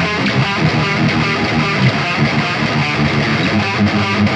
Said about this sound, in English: So let's go ahead and dive in and listen to a high gain metal tone.